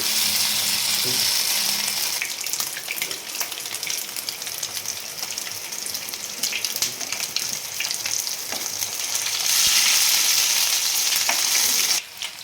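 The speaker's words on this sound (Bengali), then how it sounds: "ভেকটি ফিশগুলো সব ভাজা হয়ে গেছে" Bhetki fish pieces frying in oil in a saucepan give a loud, dense, crackling sizzle that holds steady for several seconds, swells toward the end, then cuts off abruptly, with faint utensil taps.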